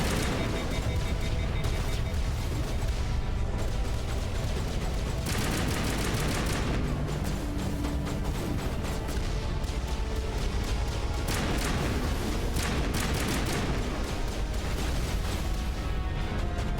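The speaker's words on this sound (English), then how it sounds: "getting hit by those turrets is bad." Turret gunfire from the video game Mass Effect pounds in dense, continuous bursts of rapid shots and booming impacts, loud and close, with brief lulls between volleys and no talking.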